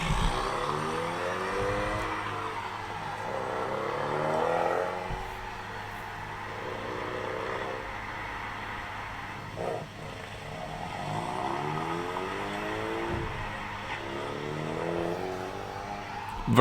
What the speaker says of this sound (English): The EcoBoost has a very distinct sound.